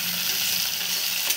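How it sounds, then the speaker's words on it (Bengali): Chopped onions fry in hot oil with black cumin, giving a steady, close hiss and sizzle for a brief moment with no talk. "এখন দিয়ে দেবো পেঁয়াজ কুচিগুলো ভাজা"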